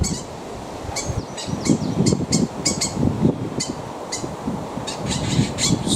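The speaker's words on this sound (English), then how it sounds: "I think it's a starling" A starling calls from its nest in a hawthorn on a hillside, giving repeated sharp squeaky chirps in quick bursts over steady wind rumble outdoors.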